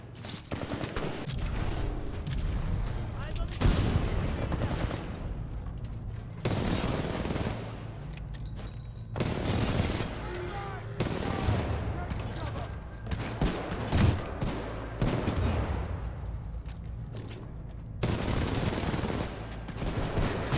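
Dense bursts of gunfire and grenade blasts from the shooter game Titanfall 2, rapid automatic fire and explosions repeating throughout at close range, with a voice speaking over the action.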